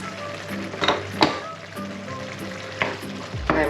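Saffron-laced seafood sauce for judiones marineros frying in a pan while a spoon stirs it, a steady close sizzle broken by several scraping stir strokes.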